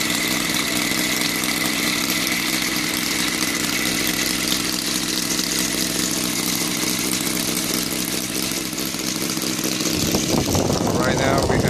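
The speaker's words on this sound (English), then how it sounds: "It's running real nice and smooth. The engine is brand new." A brand-new EVO 7-77 CH gasoline-converted model engine with CDI ignition idles steadily and loudly with a continuous buzzing rumble, holding an even rhythm before a brief change near the end.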